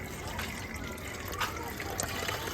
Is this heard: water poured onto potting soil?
yes